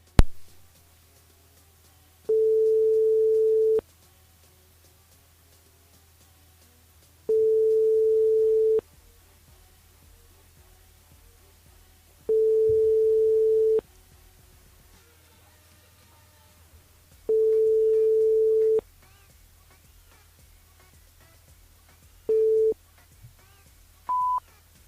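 Ringback tone on a phone call placed from a live radio broadcast that goes to voicemail: four long steady beeps repeating every five seconds, then a shorter fifth beep and a brief higher blip, over a low hum.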